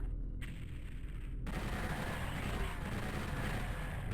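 A single-barrel shotgun blasts in Doom 64 on the Plant Ops level, a loud booming shot followed by a dense, sustained wash of game noise.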